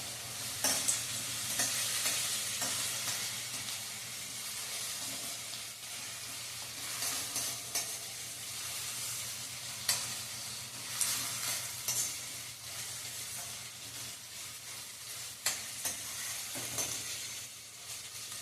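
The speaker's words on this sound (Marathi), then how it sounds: "कांदा व्यवस्थित तांबूस रंगावर येईपर्यंत परतून घ्यायचा आहे." Chopped onion sizzles steadily in hot oil in a pan while being stirred for Marathi masale bhaat, a continuous close frying hiss broken by repeated scraping strokes of a spatula.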